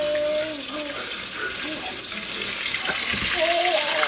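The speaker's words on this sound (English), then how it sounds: "Frying ice cream here." Steady bubbling sizzle of ice cream deep frying in hot oil, with faint tonal squeaks over the hiss.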